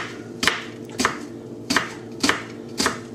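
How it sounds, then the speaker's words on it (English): A large onion is chopped with a knife on a board for a British-style lean beef mince spaghetti bolognese: five sharp, evenly spaced strikes, close and clear, with no talking. "how you chop it is up to you, but you don't have to chop it super fine"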